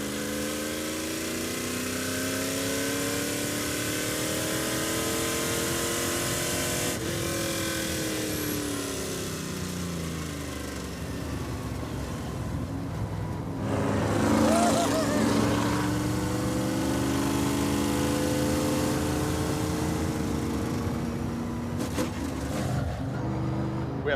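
The loud Roadkill car laps Laguna Seca raceway, its engine roaring steadily with rising and falling revs as it passes, swelling louder midway, while people talk over it.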